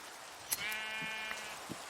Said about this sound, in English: then I found the one thing I'd been looking for so long. Sheep!